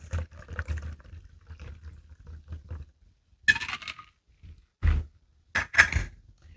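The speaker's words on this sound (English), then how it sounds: "pour it in this martini glass" A shaken cocktail being poured into a martini glass, short splashing pours in separate bursts with brief pauses between, close and fairly quiet.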